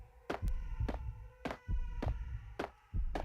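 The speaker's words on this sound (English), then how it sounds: "There's like a heartbeat now." A heartbeat in the Max Payne video game throbs close and steady, with deep double thumps repeating about every second and a half over a low background hum.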